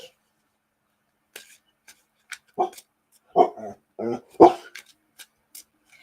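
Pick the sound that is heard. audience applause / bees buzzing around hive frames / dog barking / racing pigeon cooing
dog barking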